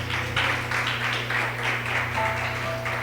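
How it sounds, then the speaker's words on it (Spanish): A church congregation applauds, warm continuous clapping rising and falling in waves over a steady low hum, with no voices. "Dele una ofrenda de aplausos al Señor."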